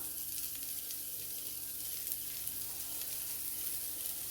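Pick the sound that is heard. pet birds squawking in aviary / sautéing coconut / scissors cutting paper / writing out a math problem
sautéing coconut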